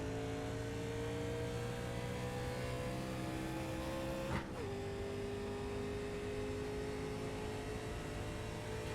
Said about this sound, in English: I heard somebody miss a shift up there